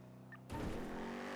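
A car in GTA V pulls away on a NoPixel roleplay server. A quiet hum gives way halfway through to a sudden, louder engine roar that holds steady as the vehicle drives off.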